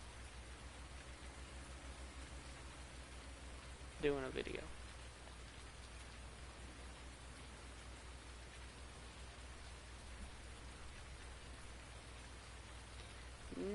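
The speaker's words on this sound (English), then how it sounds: "this is like the first time it's rained since I started this game save" Steady rainfall in a farming video game, a constant hiss of drops running throughout, with someone talking briefly over it now and then.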